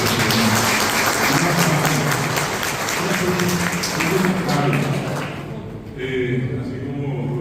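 An audience at a Guaraní language and culture certificate ceremony claps in a dense, sustained burst of applause that fades slightly before a voice comes through over the thinning claps.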